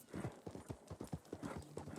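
Horse hooves clip-clop in a quick, uneven rhythm close by in Red Dead Redemption II, with a brief snort or whinny near the end.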